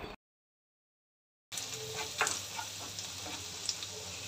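Garlic and chopped green chilli sautéing in oil for a restaurant-style dragon chicken, a steady crackling sizzle that starts after a brief silence, with occasional spoon-stirring scrapes, close and moderately loud.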